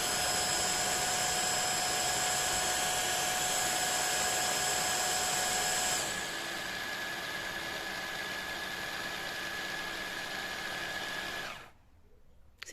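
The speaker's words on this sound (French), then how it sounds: "regardez comment ça se nettoie" Tineco iFloor3 wet vacuum running its self-cleaning cycle, a steady whirring motor hum that steps down to a quieter level midway, then cuts off abruptly near the end.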